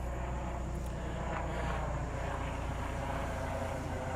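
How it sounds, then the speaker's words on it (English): Aircraft passing overhead during an outdoor battlefield tour at Gettysburg, a steady loud engine drone that fills the whole stretch without pause. "Well, I did not expect helicopters today."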